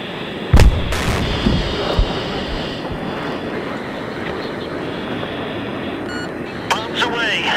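Bomb explosions in Battlefield 3 on the Tehran map near an airfield runway, with a heavy low boom early on and further blasts amid a steady rumble of jet and battle noise.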